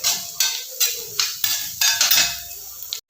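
A spoon knocks and scrapes against a pan about eight times in a steady rhythm while garlic and salt are stirred for beef pickle. The strokes are close and clear over a faint frying hiss, and no one speaks.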